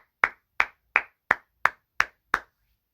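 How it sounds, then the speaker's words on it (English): Seven sharp, evenly spaced hand claps, close and isolated with silence between each, played alone with no talk. "That's me clapping."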